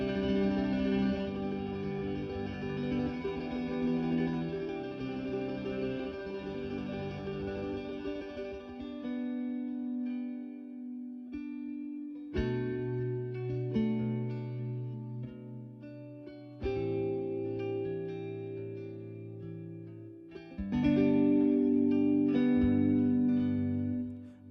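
e-Instruments Velvet Guitars virtual guitar played through heavy effects, sustained shimmering chords and drones with chorus, echo and reverb tails, shifting abruptly between textures and ending in a bright swelling cloud.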